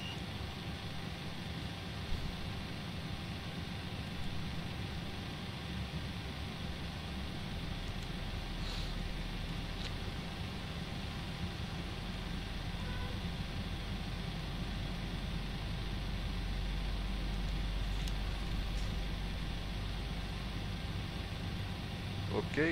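A Boeing 747-400 in Qantas livery starts engine 1 in Flight Simulator X, a steady low turbine rumble and hum that continues through the clip and grows slightly heavier partway through.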